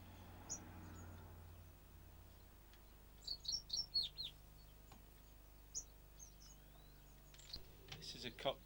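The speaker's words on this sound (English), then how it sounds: "This is a cock Peter's twin spot" Cock Peter's twinspot waxbill giving a few short, high chirping calls, clustered together and then repeated sparsely, fairly faint over a low background hum.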